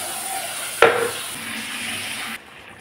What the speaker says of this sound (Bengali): পেঁয়াজ টমেটোর সাথে আমি মশলাটাকে ভালোভাবে কষলাম।